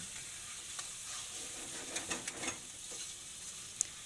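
Chicken ginger karahi sizzles in a pan during bhunai, a soft continuous frying crackle with a few stirring scrapes and clinks, fairly quiet and close, with no one talking.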